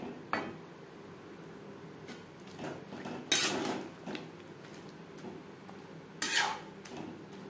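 Lentils with snake gourd stirred in a pot, quiet and close: scattered clinks and scrapes of a spoon against metal, two sharper bursts of stirring noise, otherwise a low hush with no speech.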